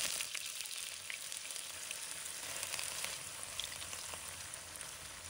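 Cut tofu fries in moderately hot oil in a wok, a soft, steady crackling sizzle with small pops throughout, fairly faint and with no talking.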